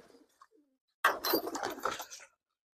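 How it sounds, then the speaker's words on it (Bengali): Pigeons coo in a loft where rows of birds, many of them young squabs, sit together. A soft murmur comes first, then a louder, close burst of throaty cooing lasting about a second before it fades. "এই যে দেখেন একেবারে সারি সারি কবুতরগুলো বসে আছে।"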